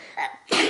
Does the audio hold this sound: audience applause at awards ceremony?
no